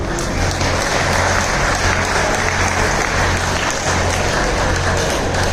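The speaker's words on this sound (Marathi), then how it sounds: "म्हणून एकदा टाळ्या वाजवून प्रॅक्टिकल करून द्या." Sustained applause from a crowd, dense and steady throughout, loud and close with no pauses.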